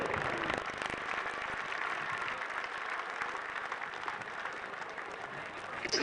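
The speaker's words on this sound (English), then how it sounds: "One more round of applause, ladies and gentlemen," Steady round of applause from an audience at a National Premier League finals football event in Australia, honouring Lions FC; dense, continuous clapping at moderate level throughout with no voices standing out.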